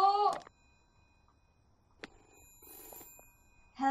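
A telephone rings in the video game We Happy Few, a short bright bell burst at the start and again at the end, with a brief voice and quiet game sounds between.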